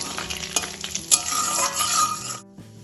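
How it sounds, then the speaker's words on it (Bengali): Whole cumin, two dry red chillies and whole garam masala sizzle briskly in hot ghee while being stirred, a loud close crackle with utensil scrapes that drops away abruptly near the end. "ফোড়নটা একটু তেলের সাথে নাড়াচাড়া করে নেব"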